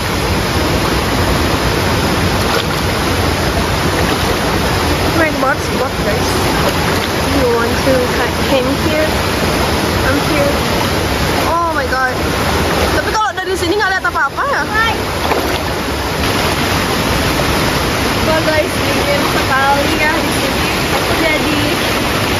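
Clear mountain river water at Jatiluwih rushes in a loud, steady, close roar throughout, while people talk over it at moments.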